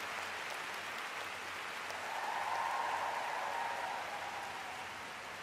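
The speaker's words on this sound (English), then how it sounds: "Resounding applause and cheers from the Japanese skating fans who are so knowledgeable." Arena crowd of Japanese figure skating fans at the World Championships in Saitama, giving sustained applause and cheers that rise in the middle and settle slightly toward the end, a broad continuous roar.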